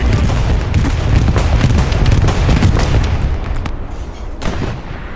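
Dense, continuous rumbling booms and blasts with sharp cracks scattered through from a bombing run in the video game Hell Let Loose, loud throughout and easing slightly near the end.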